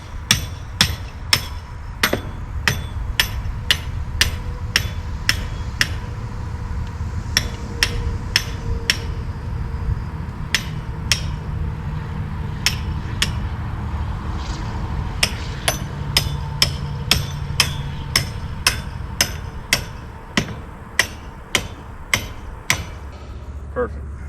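A big, heavy hammer pounds steel fastenings during a pig pen shed build with steel trusses, striking in irregular bursts of sharp, ringing blows over a low engine rumble.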